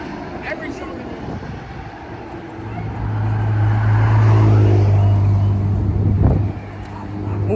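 A bus passes on a street, its engine rumble swelling from about the midpoint to a loud, steady drone before fading quickly, heard under someone talking.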